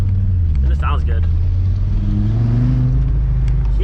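A Nissan Skyline R32 rolling on HRE wheels revs its engine while driving, a steady mid-pitched drone rising in pitch, with people talking over it.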